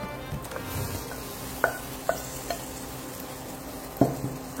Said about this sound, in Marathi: बघा, आपण इथे कोलंबी टाकतो.